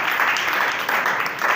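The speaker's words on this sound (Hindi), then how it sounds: "इनके लिए तालियां बजा दीजिए" Short burst of audience clapping at a poetry gathering (mushaira) held by a welfare organization, a steady moderate wash of applause lasting under two seconds.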